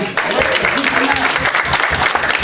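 Church congregation applauding a departing guest during a French-language service; dense, steady clapping that fills the whole stretch at close range, with voices mixed in underneath.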